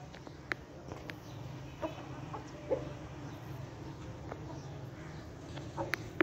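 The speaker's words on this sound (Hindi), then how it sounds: "ब्लैक मुर्गियां बड़ियां प्यारियां मुर्गियां ने माशाल्लाह जी।" Black hens in a mesh-fenced shed cluck intermittently, with short, scattered calls rising over a steady low background hum at moderate distance.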